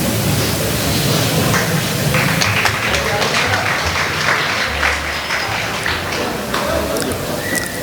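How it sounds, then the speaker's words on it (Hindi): Applause from the audience at a school retirement function for a teacher, a steady dense patter of many hands clapping throughout, with some background murmur and low rumble. "तालियों की गड़गड़ाहट चलती रहनी चाहिए"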